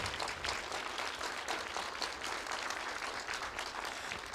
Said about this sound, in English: This lady deserves a very warm round of applause.